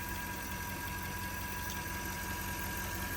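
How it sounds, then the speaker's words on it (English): A Range Rover engine that is overheating from a leaking radiator idles steadily at close range, giving a continuous, even mechanical hum with no voices. "And it's been idling for a while."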